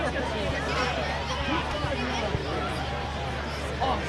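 Crowd babble fills the stands at a Cal Ripken World Series youth baseball game, a steady hum of overlapping voices in the background with a nearer voice talking over it.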